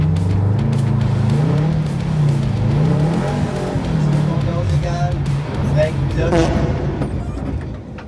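A rally car accelerates hard on a course, its engine droning loud and close with rising and shifting revs, then straining toward the end.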